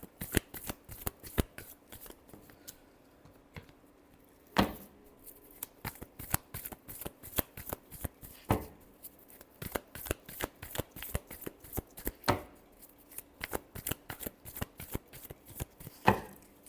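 Tarot cards are shuffled close up in a fast, rhythmic series of crisp card slaps and riffles, with brief pauses and sharper snaps every few seconds.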